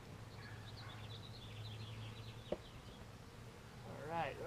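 A steady low buzz of honey bees around an opened hive hums throughout, with a brief click and a rustle near the end.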